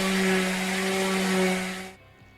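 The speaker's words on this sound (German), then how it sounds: "Gut, schleifen wir." A loud power sander in the Toy Tinker Simulator video game: a steady, harsh mechanical whine that drones for about two seconds and then cuts off abruptly, leaving near silence.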